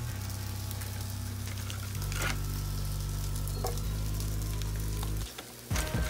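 Oil and butter sizzle in a frying pan before eggs go in, a soft crackling hiss over a steady low hum from the stove area, with brief stirring sounds near the end.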